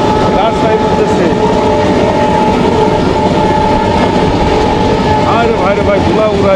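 The Madhumati Express rushes along at high speed toward Rajshahi, a loud constant rumble with rhythmic clattering wheels and a droning horn, heard from aboard with voices faintly underneath.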